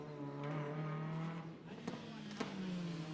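A BMW M3 touring race car at Spa-Francorchamps howls through Blanchimont flat out in qualifying, a steady high engine note under a commentator's voice.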